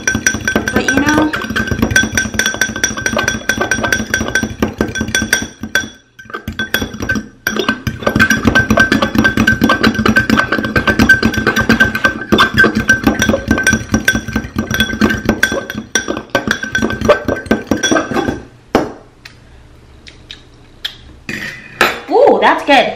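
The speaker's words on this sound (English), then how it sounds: "I'm just gonna whisk this together like so" A fork beats vegan enchilada ingredients together in a bowl, producing rapid, continuous metallic clinking and scraping that runs on for a long stretch, stopping briefly a few times, with a person talking.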